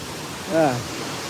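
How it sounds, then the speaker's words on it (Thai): Waterfall in Indonesia, a steady broadband rush of falling water heard from nearby, with a brief voice rising over it midway. "นี่น้ำตก น้ำตก"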